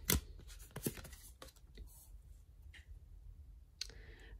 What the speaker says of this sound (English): let's give the cards a good shuffle